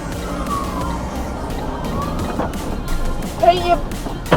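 An ambulance siren on a Czech road rises and falls in long sweeping wails behind steady traffic and engine noise, with a brief sharper tone near the end.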